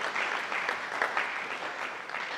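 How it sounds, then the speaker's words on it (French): An audience at a chamber of commerce and industry business forum applauds to welcome someone speaker, with steady, moderately distant clapping from many hands and no pauses. "Sous nos applaudissements, bien entendu, parce que c'est une dame"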